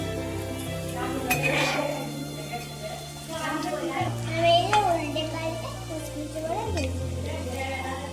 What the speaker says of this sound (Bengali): এগুলাও আমি ভেজে নিচ্ছি